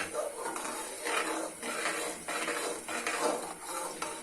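Semolina (suji) dry-roasting in a pan and stirred continuously, giving faint repeated scraping and clinking strokes of a spoon against the metal in an even rhythm.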